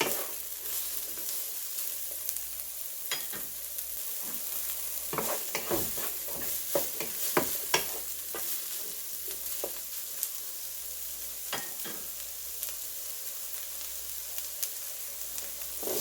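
Frozen green peas for an aloo samosa filling frying in a pan, a continuous low sizzle with bursts of stirring clatter and spoon scrapes clustered midway, close and moderately quiet, no voices.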